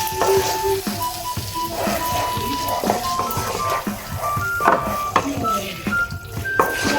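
Fish roe frying in a hot pan crackles and sizzles steadily while it is stirred. Scraping and tapping strokes of the utensil punctuate the loud, close frying sound.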